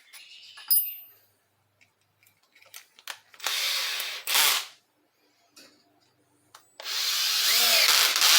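A power drill drives a screw into a block while making suspension covers and lights: two loud whirring bursts, one short and one longer, separated by quiet handling clicks and taps.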